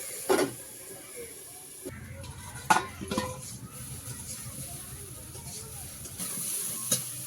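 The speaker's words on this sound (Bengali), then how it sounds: "কলাটা একটু সাঁতলে নিয়েছি আর দিয়ে দিচ্ছি অল্প করে জল দিয়ে দিচ্ছি ঢাকা" Green banana curry fries in a pan with a continuous hiss and sizzle as water is poured in, broken by a few sharp clatters of a stirring spoon against the pan.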